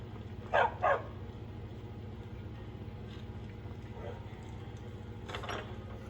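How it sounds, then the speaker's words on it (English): Dog barking in Skyrim, two quick close barks followed later by fainter ones over a low steady hum of game ambience. "the dog's barking doesn't actually give you a position away"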